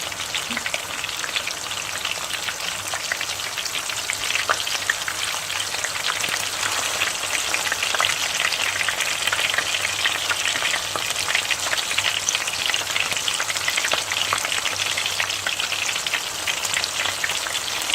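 Peshawari chapli kebabs fry steadily over a medium flame, giving a continuous dense crackling sizzle that holds loud and even throughout with no voices.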